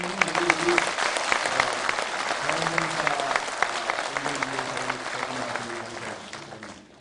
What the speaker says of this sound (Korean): 우리 같이 박수 치고 또 우리 의료원장님 우리 같이 박수 한번 하겠습니다. 축하의 박수입니다.